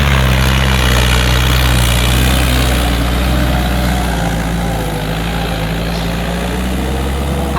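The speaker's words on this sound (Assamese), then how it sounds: "আজি আপোনালোকক দেখাম মাহিন্দ্রা অৰ্জুন ট্ৰেক্টৰে কেনেকৈ হাল মাৰে" A Mahindra Arjun tractor fitted with a rotavator, working muddy wet ground, runs with a loud, steady low diesel rumble, close and unbroken throughout.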